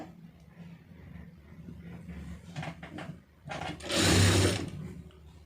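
A sewing machine stitches a band onto a blouse: a low mechanical hum runs throughout, then swells into a loud, fast, close burst of stitching near the end.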